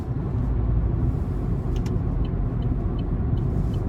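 A 2016 Chevrolet Spark LS with a non-turbo 1.4-liter engine and 108K miles, heard from inside while driving: a steady, loud low engine and road rumble holds without a break and carries no voices.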